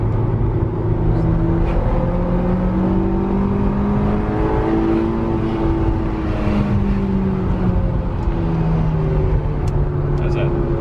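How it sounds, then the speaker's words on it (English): Honda S2000 accelerating hard in third gear, engine note climbing through several rising sweeps in a loud continuous drone, heard from inside the car. "That's a third gear pull."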